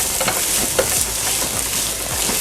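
Chopped white onion sizzles loudly in a hot pan for fried rice, with a continuous hiss broken by repeated scraping stir strokes and small pops.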